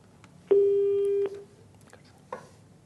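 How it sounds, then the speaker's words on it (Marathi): A telephone tone on a phone-in programme line after the caller's call drops: one loud, steady electronic beep lasting under a second, followed by near silence and a faint click. "फोन कट झालेला आहे."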